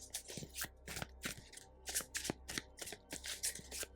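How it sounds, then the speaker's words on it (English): A deck of tarot cards is shuffled by hand, giving a quick run of crisp riffling bursts and soft slaps in an irregular rhythm, close and fairly quiet. "I'm going to be shuffling them a little bit more."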